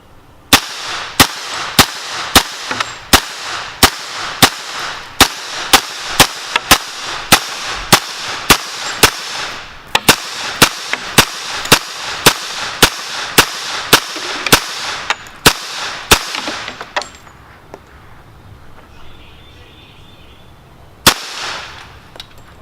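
Tommy gun firing at an outdoor range, a long run of sharp, evenly spaced shots in two bursts, then a pause and one last crack near the end, loud and close.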